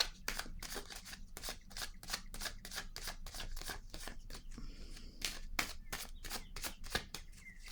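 Tarot cards are shuffled in a steady run of crisp, rapid riffles and flicks, close and fairly loud, with no talking.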